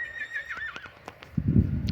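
A young stallion neighs with a wavering, high whinny, followed by low snorting and hoof-like thuds close by.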